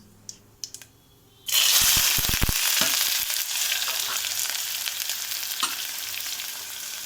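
After a few soft clicks, onions and green chillies hit a little oil in the pan with an abrupt loud sizzle, followed by steady close frying with stirring clatter and occasional pops.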